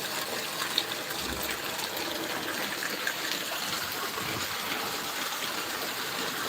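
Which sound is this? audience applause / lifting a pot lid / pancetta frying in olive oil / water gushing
water gushing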